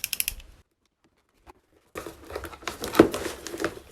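A damaged cardboard box for a Hansung full-size rubber-dome keyboard is torn and its packaging crinkled open in short, close bursts, with a quiet gap before a busier stretch of rustling and ripping.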